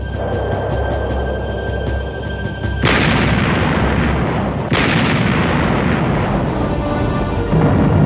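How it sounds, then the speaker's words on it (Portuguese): Heavy naval gunfire and explosions from the 1939 Battle of the River Plate involving Graf Spee, Ajax, Achilles and Exeter. Loud, continuous booming blasts and rumbling come in sharp surges, with a dense roar filling the whole stretch. "enquanto seus canhões de 11 polegadas continuavam a golpear o inimigo"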